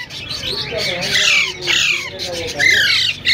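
Hand-fed Alexandrine parakeet chicks at a Sunday bird market in Bahawalpur give loud, harsh, repeated squawks close by, with voices faintly underneath.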